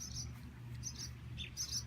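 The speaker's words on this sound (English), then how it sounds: "And I got those annoying birds again." Birds chirping outdoors, several short high tweets in scattered bursts over a steady low background hum, fairly faint and with no voices.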